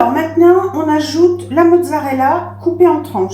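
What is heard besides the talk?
No everyday noise stands out behind the speech.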